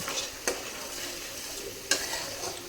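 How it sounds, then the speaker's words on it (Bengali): Sugar being stirred into coriander leaf paste in a pan: a steady low sizzle with soft scraping strokes and two sharper clinks of the spoon against the pan, close by, with no voices. "চিনিটাকে দিয়ে ভালো করে মিশিয়ে নেব।"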